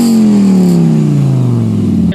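A Fiat Stilo's 2.4-litre, 20-valve five-cylinder engine sounds loud and close, its strong harmonic note sliding steadily down in pitch as the revs fall, with no talk over it.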